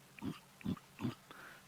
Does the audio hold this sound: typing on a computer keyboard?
no